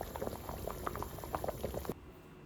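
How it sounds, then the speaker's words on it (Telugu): A pot of water boils for rice in a chicken pulao, with soft continuous bubbling and irregular popping patter at low level, the bubbling dropping off near the end. "ఒక వంతు బియ్యానికి 2 వంతులు వాటర్ మరగబెట్టుకోవాలి"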